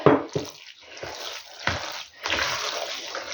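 Unscented sunflower oil, about 150 ml, is poured straight onto cooked macaroni, giving a few close splashy glugs and a steadier trickling stream at the end.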